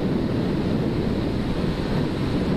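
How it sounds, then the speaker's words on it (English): Steady, loud wind buffeting a microphone on a moving motorcycle, a constant low roaring rush with no pauses, heard on its own without any voices. "I'm assuming you can hear the wind."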